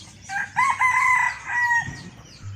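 A rooster crows once in open scrubland on a cold, overcast day, a clear drawn-out call at moderate distance with faint clucking and low background noise.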